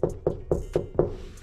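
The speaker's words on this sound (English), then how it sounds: "Knock on the door." Five firm, evenly spaced knocks on a door during a courier delivery stop, close and crisp, with no talking.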